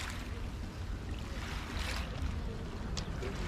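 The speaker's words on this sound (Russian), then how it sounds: "Шум моря." Sea waves wash continuously onto a hotel beach in Kemer, Turkey, a steady broadband surf rush with faint gusts and a brief splash, heard alone without voices.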